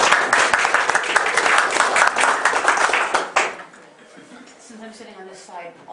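Audience applause for Sue at a biomimicry talk in Knysna, a dense loud burst of clapping for about three seconds that cuts off, followed by quieter speech.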